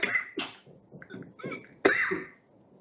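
A man coughs a few times between bits of speech during a Malay-language market analysis session, short sharp bursts close to the microphone, with one louder cough near the end.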